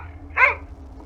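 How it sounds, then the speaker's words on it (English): A single sharp dog bark rings out near mid-clip, short and moderately loud over a low, steady indoor hum. "I swear I am about to throw this dog out the window. It will not shut the hell up."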